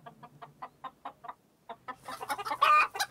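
Hens clucking on a farm, a series of short rhythmic clucks close by, followed by a louder, busier burst of squawking and clucking from several birds.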